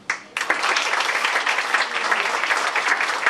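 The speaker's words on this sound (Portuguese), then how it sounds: "vocês vão bater palma" A seminar audience at a talk on Brazil's ECF accounting and tax bookkeeping bursts into applause after a brief quiet moment, with dense, sustained clapping from many people that carries steadily to the end.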